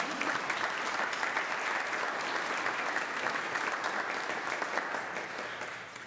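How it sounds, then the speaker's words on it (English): A church congregation at a Youth Sunday service gives a sustained round of applause for young people and their families, many hands clapping loudly and evenly throughout before easing slightly at the end. "Let's give a round of applause to those young people and their families."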